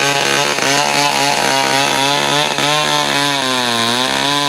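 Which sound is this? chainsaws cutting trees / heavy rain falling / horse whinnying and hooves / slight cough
chainsaws cutting trees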